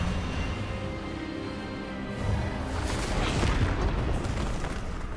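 The Expelliarmus disarming spell in Hogwarts Legacy goes off as a rumbling, booming magical blast that swells in the second half, a heavy, explosive roar with no talking over it.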